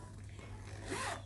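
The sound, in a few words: zipper of a sling bag coin pocket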